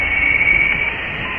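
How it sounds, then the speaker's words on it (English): A spacecraft recording of interstellar space, from probes such as Voyager, plays as a steady, radio-like hiss and hum with a faint sustained tone running through it. "Now let's hear the hum of interstellar space."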